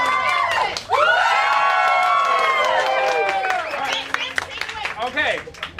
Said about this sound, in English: So cheer for the one you want to see.